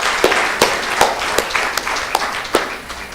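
An audience at an anniversary commemoration event in Durban, South Africa applauds steadily, a dense wash of claps with a few sharper individual claps standing out, heard from within the crowd.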